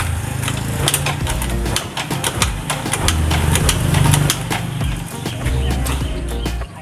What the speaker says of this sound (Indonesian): Kita coba hidupkan pakai starter kaki ya teman-teman.